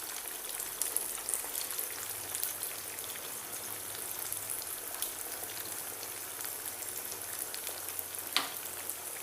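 Lumpia spring rolls fry in hot oil with a dense, steady crackling sizzle, heard up close throughout, with an occasional sharper pop.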